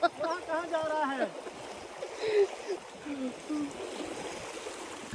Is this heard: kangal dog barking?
no